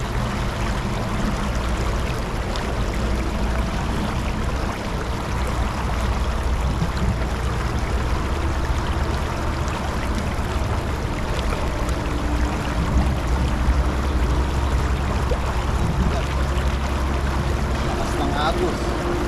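Flowing stream current rushes steadily and loudly in a broad, unbroken wash of water noise, with a faint low tone rising briefly partway through.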